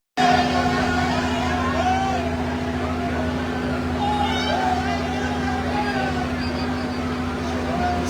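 A vehicle in President Boakai's convoy moves at about 30 km/h, its steady engine drone and rumble holding constant throughout while people talk over it.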